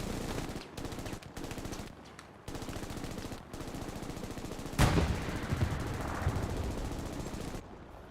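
An enemy tank in GTA 5 opens fire in a sustained, rapid stream of gunfire, with a sharp, loud blast punctuating the barrage midway before the shooting continues at a steady level.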